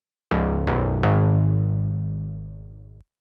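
A Serum synth brass stab, EQ-notched with a 250 Hz cut, plays three quick, loud, bright stabs in a row; the last one sustains and slowly fades. No voices.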